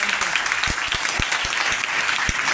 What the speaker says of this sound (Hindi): इसके लिए एक ताली बजा दो